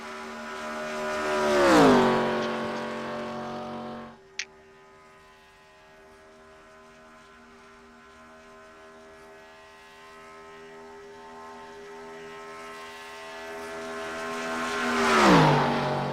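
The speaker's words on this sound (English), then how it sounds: "these cars sound so good" Race truck engines in a racing video game at Daytona roar past twice with a falling pitch as each passes, a steady engine drone holding between them and a brief sharp click.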